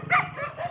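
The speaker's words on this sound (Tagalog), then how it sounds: "Aso." A dog gives a single short, fairly faint bark, heard alone over a brief moment.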